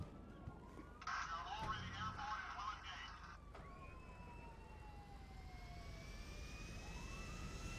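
A jet plane engine in GTA 5 whines and roars at moderate distance, rising and falling pitch sweeps over a steady rumble, with a brief siren-like burst early on; a voice speaks briefly.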